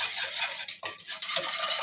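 A spoon stirs raw mango pulp and water in a pot for mango sherbet, with quick, close scraping and clinking strokes against the metal over about two seconds.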